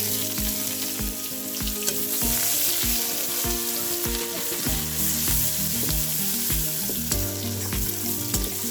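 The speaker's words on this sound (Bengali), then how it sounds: "অল্প অল্প ঝোল করে রান্না করব এই যে পেঁয়াজ দিলাম" Onions fry in hot oil at the start of a spicy chicken curry, a loud, continuous close-up sizzle with occasional stirring and no voices.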